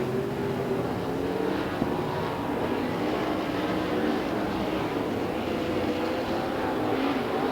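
Super sedan race cars roar down the main straight at Moama Speedway, a dense, continuous engine drone that stays loud and steady with no break.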